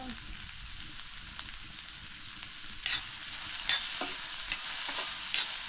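Onions frying in a pan make a steady close sizzle throughout, with a few brief stirring scrapes and no speech.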